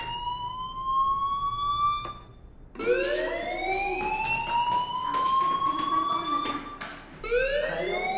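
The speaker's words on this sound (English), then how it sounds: "do you hear that fire alarm? That means you should be outside." An electronic fire alarm in the video game Life is Strange wails in rising, sweeping tones, pausing briefly then resuming with repeated upward glides, loud and close with a synthetic, game-like quality.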